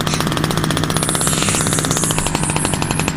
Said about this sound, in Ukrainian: Прям такий звук торкотіння машини.